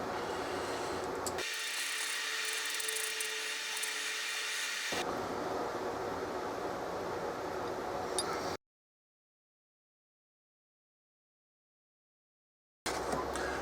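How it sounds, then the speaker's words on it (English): A regular locksmith file rasps steadily against a Palmgren tilting machinist vise, a loud continuous scraping that runs for several seconds, cuts off into silence, then briefly resumes. "I'm going to use just a regular locksmith file"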